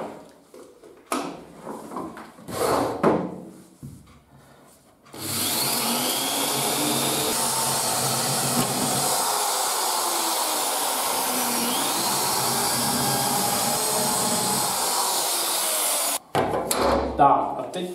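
A power drill bores a hole through a kitchen worktop during a sink installation, a steady loud whine running for about eleven seconds, preceded and followed by shorter handling clatter and bursts of tool noise.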